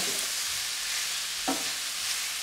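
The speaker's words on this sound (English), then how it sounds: "We'll give it a little stir." Meat with onion and garlic sizzles steadily in a hot pan as a spoon gives it a quick stir, with one brief scrape in the middle of the frying hiss.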